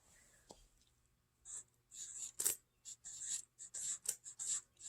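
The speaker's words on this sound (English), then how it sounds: "I'm going to write on top of my box" Pen or marker scratching across the top of a box, close and quiet, in short irregular strokes and bursts with brief pauses between them.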